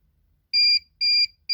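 FCHAO 2500W power inverter beeps at low voltage: three loud, even electronic tones about a quarter second each, repeating at a steady interval in an otherwise quiet room.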